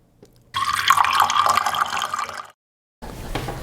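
Filtered Brita water pouring into a cold brew coffee container, a loud close splashing stream for about two seconds, then silence, then the pour resumes.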